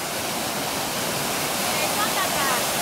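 Waterfall roaring as a steady, dense rush of falling water, loud and continuous from nearby, with no pauses.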